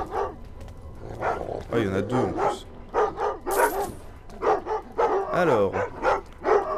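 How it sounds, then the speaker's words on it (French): Guard dogs in the stealth video game Thief bark and yip repeatedly in short bursts, fairly close and loud, mixed under someone talking in French over the game. "Tais-toi, tais-toi, le chien, t'es chiant."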